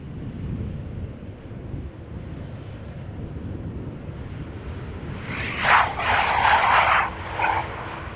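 Airliner landing at Amsterdam Schiphol Airport in the aftermath of Storm Elin, a distant jet roar that swells briefly over constant heavy wind buffeting the microphone.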